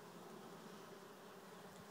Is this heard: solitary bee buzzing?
yes